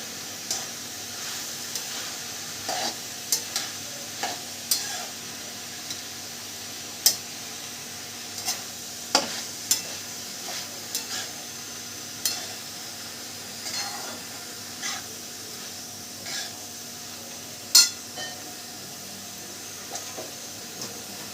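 Spring onion greens and moong dal stir-fry being mixed in an open pan, with a soft steady sizzle and scattered scraping clicks of the spatula, fairly faint and close, no voices.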